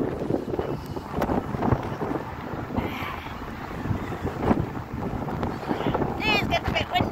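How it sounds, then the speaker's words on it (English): Wind gusts buffet the microphone with a steady low rumble in Blackpool, while people talk and shout nearby throughout. "It's getting a bit windy!"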